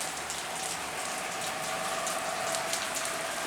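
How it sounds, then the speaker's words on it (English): Heavy rain pours down steadily in Siesta Key Village, Florida, a dense, even hiss of drops hitting surfaces close by, with no voices. "Not the best time for a downpour."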